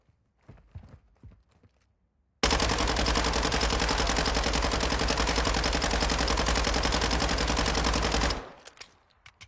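In Warzone 2, a test weapon fires one sustained, rapid automatic burst lasting about six seconds, loud and close, with a few faint clicks and taps before and after.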